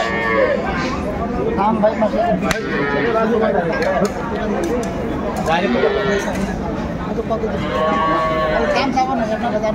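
Cows moo a few times among the dairy cows and calves at a crowded cattle market in Chittagong, Bangladesh, the calls rising over constant loud crowd chatter and bargaining voices.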